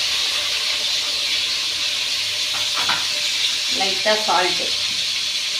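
Onions hitting hot oil with popped mustard seeds and curry leaves give a steady broad hiss and sizzle throughout, with a voice speaking briefly over the frying.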